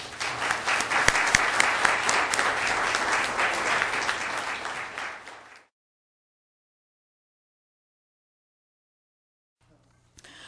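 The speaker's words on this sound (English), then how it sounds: "please let us thank the candidates with our applause." Audience applause for the candidates at a League of Women Voters of Merced County candidates forum: a dense, loud burst of clapping lasting about five seconds, then it stops abruptly and leaves near silence.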